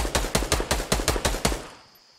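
About eight evenly spaced gunshots ring out in quick succession in the video game Fortnite, each a sharp crack with a short tail, before fading into quiet.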